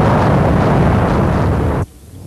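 A loud, harsh burst of noisy explosion roar from a Dendy (NES) space shooter game holds steady for nearly two seconds, then cuts off abruptly into a much quieter hiss, with no talking.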